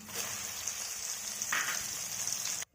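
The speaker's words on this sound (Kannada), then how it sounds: "ನಂತರ ಬೆಳ್ಳುಳ್ಳಿಯನ್ನು ಫ್ರೈ ಮಾಡಿಕೊಳ್ಳಿ. ಬೆಳ್ಳುಳ್ಳಿಯನ್ನು ಜಜ್ಜಿ ಹಾಕಬೇಕು." Crushed garlic frying in a hot pan for a crispy poha snack, a steady close hiss and sizzle with a brief louder crackle midway, cutting off abruptly at the end.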